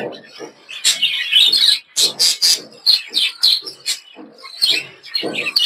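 Pet budgerigars in a cage chirp and chatter in quick, busy bursts, close and fairly loud, with short pauses between clusters of tweets.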